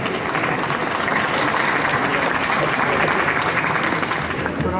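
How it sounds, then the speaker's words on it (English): Dense, steady applause fills the room at a post-fight boxing press conference for Bernard Hopkins versus Sergey Kovalev, loud and unbroken throughout. "give him credit and applause right now"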